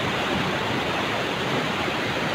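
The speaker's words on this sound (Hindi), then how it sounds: "पानी का फ्लो देख सकते हैं" Steady, full rushing of river water flowing past the marble rocks at Bhedaghat, Jabalpur, a continuous broadband roar with no pauses and no talk.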